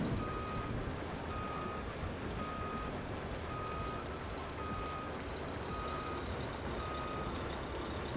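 A reversing vehicle in the Airport Simulator 2015 video game sounds steady, evenly spaced warning beeps, about one per second, over a constant engine rumble, with no talk.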